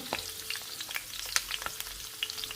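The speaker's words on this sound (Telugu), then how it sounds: "ఇవి కొంచెం వేగుతున్నప్పుడు నేను చూపిస్తాను చూడండి ఎంత చక్కగా వేగుతున్నాయో" Bitter gourd pieces coated in gram flour fry in oil in a pan over low heat, giving a soft continuous sizzle dotted with small crackles and pops, close and quiet, with no voices.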